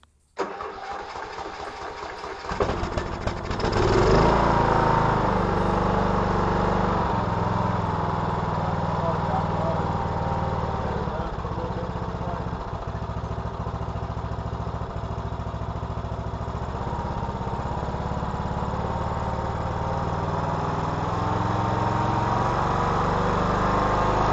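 A Kohler 17 HP engine on a 2014 Troy-Bilt Bronco lawn tractor cranks, catches and settles into a loud, steady close-up running drone that continues to the end, alone without talk.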